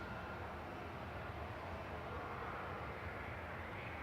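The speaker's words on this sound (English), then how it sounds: "So we've got a United Airlines 777 just going over us there." United Airlines Boeing 777 passing overhead near Manchester Airport, a faint, steady broadband engine roar that holds evenly throughout with no talk.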